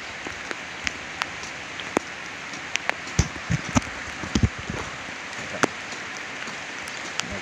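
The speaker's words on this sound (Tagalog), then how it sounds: "habang malakas ang ulan" Steady rain hisses on all sides, with scattered louder drops pattering and plinking on a nearby surface.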